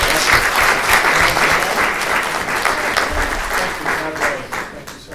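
Audience applause for a speaker at a community paramedicine partnership panel, dense steady clapping throughout, with faint voices underneath.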